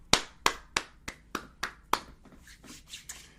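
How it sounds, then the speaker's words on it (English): A single person claps about seven sharp, evenly spaced hand claps, close and loud, then the claps soften and blur into quieter, scattered clapping. "clap it up for you for being here today"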